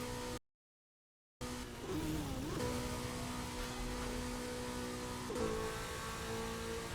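A Lamborghini Countach in the racing game Burnout Paradise revs, after a brief drop to silence, into a steady mid-pitched engine whine that swoops and holds, with a quick shift near the end.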